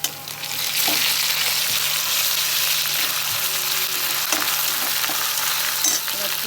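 A paste of garlic, ginger and cumin fries in hot oil for catla fish dopiaza, making a loud continuous sizzle with occasional faint stirring clicks and no talking.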